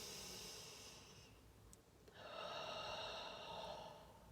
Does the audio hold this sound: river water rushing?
no